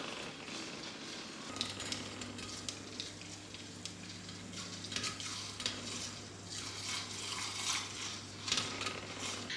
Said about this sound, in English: I have my trusty electric whisk. And I just kind of go in circles, in zigzags.